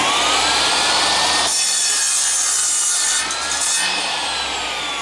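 Drop saw cutting through a piece of wood, a loud continuous high whining cut with a brief dip partway through as the blade passes the board, no talk.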